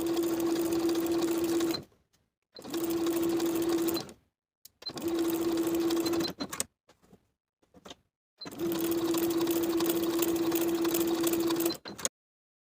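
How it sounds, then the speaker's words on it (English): Sewing machine stitching clear elastic into a garment shoulder seam for a cardigan, running in four steady bursts of several seconds each with a constant motor hum, separated by short quiet pauses and small clicks. "I'll sew the clear elastic into my seam, and then I'll finish the raw edges together"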